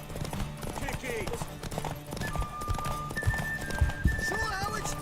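A horse in The Witcher 3: Wild Hunt clip-clops at a steady pace and lets out neighs and whinnies, all under ongoing talk from characters in the game.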